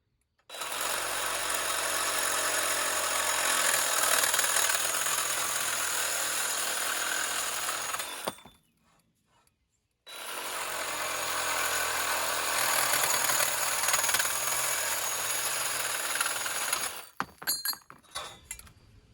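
A Craftsman reciprocating saw cuts through aluminum in two long, loud, harsh buzzing runs of about eight and seven seconds, with a short quiet gap between them and a rattling stop at the end.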